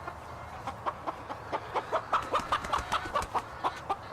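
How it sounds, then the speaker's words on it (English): Chickens cluck in a quick, steady series of short calls, fairly close, with a faint low background rumble. "Chickens."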